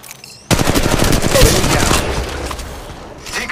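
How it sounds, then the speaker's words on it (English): Rapid automatic gunfire bursts out in the mobile video game Apex Legends Mobile, a loud sustained volley starting abruptly and tapering off over a few seconds. "Opening fire on the enemy."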